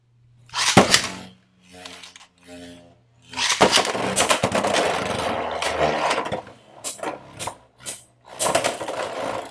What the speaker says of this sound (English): I'll launch Helm Knight first, see if we can make a difference.